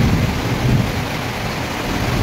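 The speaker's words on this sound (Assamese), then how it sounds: "চাওক পুৰা বিজুলী মাৰি আছে বৰষুণ দিছে" A thunderstorm with heavy rain gives a dense, steady roar of downpour, and a low thunder rumble swells in the first part before the rain carries on unbroken.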